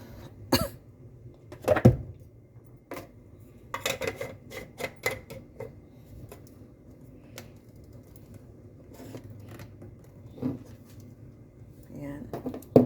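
A person who is unwell coughs and clears their throat several times, close by, in scattered bursts amid quiet knocks and clatter from objects being handled in a room.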